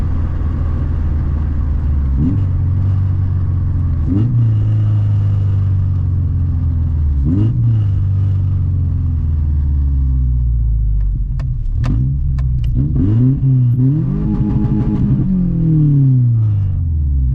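A car fitted with a street bike exhaust revs repeatedly in sharp bursts, its raspy exhaust rising and falling through several blips before a longer, climbing rev near the end.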